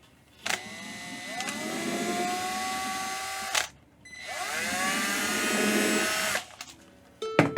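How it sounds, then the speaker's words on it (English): Two long bursts of a power drill whining steadily as it bores into a ukulele, each lasting about three seconds with a short pause between, close and fairly loud. "So you get your extra drill bits and you drill some more."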